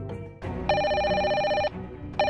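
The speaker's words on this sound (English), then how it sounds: "the Incredibles' phone is ringing" A toy telephone from a LEGO Incredibles 2 set rings with a bright electronic trill. One sustained ring lasts about a second, then another starts just as the clip ends, loud and close.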